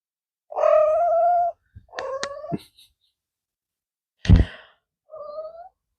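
A pet cat meows for food, with four separate close, loud meows at uneven gaps and one brief sharp noise between them in otherwise quiet surroundings.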